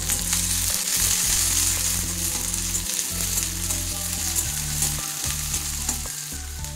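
Agastya flowers fry with onions in hot oil, a dense steady sizzle up close, with a low rhythmic hum pulsing underneath.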